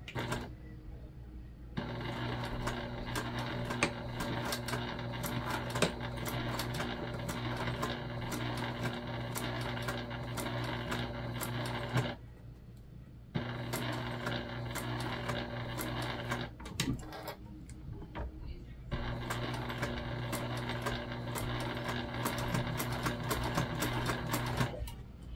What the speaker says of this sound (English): we're just sewing the top of our wave and we're gonna sew at a top stitch